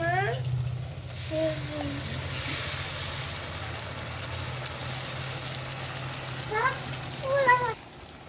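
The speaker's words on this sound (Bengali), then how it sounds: "আমি এবার আদা রসুনের পেস্টটা দিয়ে দেবো" Ginger garlic paste frying in a pan gives a steady, moderately loud sizzle over a low electrical hum, with a few brief tonal chirps near the start and end.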